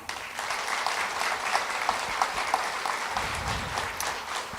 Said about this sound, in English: Once again, give them a big round of applause.